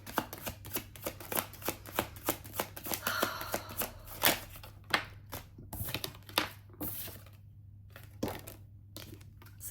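Tarot cards being shuffled by hand, a quick run of crisp riffling flicks and soft slaps, close and fairly quiet, with no talking.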